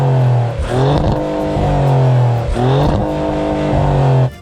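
A Maserati GranTurismo Trofeo petrol engine revs hard and close, climbing through gears in loud sweeping pulls with brief dips between, then cutting off at the end.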